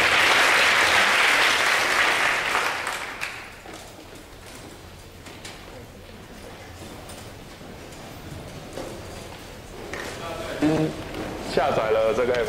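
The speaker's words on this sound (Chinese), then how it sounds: "掌声鼓励一下，谢谢。" At a tech conference talk, an audience applauds loudly for about three seconds before the clapping dies away; a presenter then speaks over a microphone, with some handling knocks and feedback near the end.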